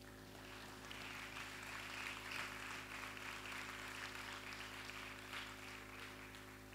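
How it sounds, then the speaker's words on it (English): Faint, distant applause rises from the delegates at an FAO opening ceremony, soft scattered clapping sitting over a steady electrical hum. "you may applaud"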